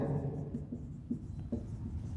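Chalk or marker scratching on a board during a chemistry lecture on the periodic table, a few short strokes in quick succession, close and moderately loud, with no talking.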